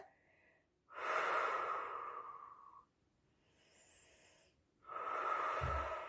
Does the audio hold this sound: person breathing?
yes